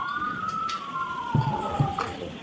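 A siren wails steadily in the distance, its tone slowly falling, with a few soft thumps underneath.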